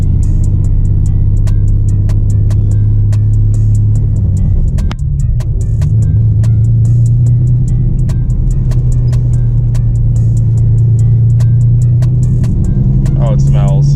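A cheap, worn Nissan 300ZX with badly off alignment drives along, its steady low engine drone and road noise loud and close throughout, with scattered clicks and rattles and a short jolt midway.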